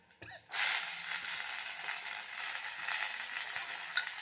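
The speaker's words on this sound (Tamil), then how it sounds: "அதுக்காக இப்போது பொன்னிறமாக வறுபட்டுடுது பாருங்க" Tempering spices fry golden in a pan before radish greens go in, giving a steady, close sizzle that starts abruptly and runs on evenly with faint crackles.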